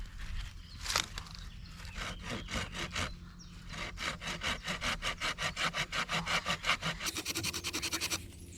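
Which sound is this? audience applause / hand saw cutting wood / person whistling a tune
hand saw cutting wood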